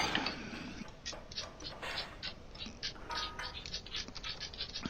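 Aircraft bolts being tightened during an engine tune-up in Plane Mechanic Simulator, heard as a steady run of quick ratcheting scrapes and clicks, close and fairly quiet, with no talking.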